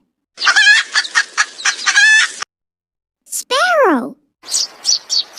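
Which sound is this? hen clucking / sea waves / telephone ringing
hen clucking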